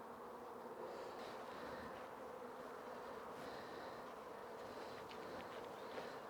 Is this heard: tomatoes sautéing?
no